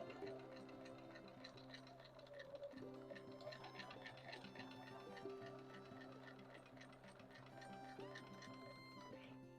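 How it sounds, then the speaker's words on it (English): A sewing machine stitches a quilt block with a quiet, steady mechanical ticking. It is faint and continuous, and a soft musical hum sits in the background. "we're sewing right down one stitch towards the inside center"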